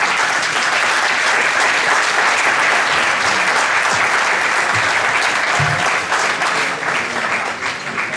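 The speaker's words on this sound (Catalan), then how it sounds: "demano especial i particularment un aplaudiment molt especial per Toni Nieto, que rep el Premi Ràdio, i per Josep Pérez Aguller, que el toca." Sustained, loud audience applause fills a radio award ceremony hall, a steady dense wash of many hands clapping throughout with no pauses.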